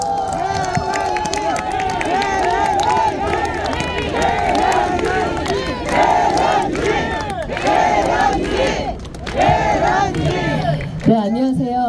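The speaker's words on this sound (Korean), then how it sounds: "큰 박수 부탁드립니다." A large crowd at a final election campaign rally in Songpa cheers and shouts loudly with clapping mixed in, a roaring, chant-like wall of voices that swells and dips, with a voice beginning to speak at the end.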